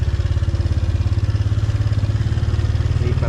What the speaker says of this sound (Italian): Il motorino passa in questo corridoio strettissimo